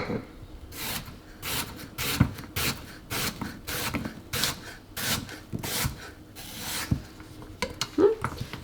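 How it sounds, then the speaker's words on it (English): Repeated rasping knife cuts slicing apples on a board, a steady rhythm of short scraping strokes close up, with occasional clicks and taps of the knife. "right now we need to cut them into the smaller slices"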